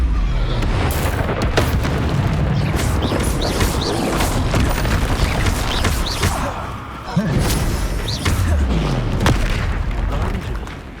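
Confringo fire spell explosions in Hogwarts Legacy, heavy booming blasts and crashing impacts amid chaotic combat noise, loud and continuous, with a voice speaking over it.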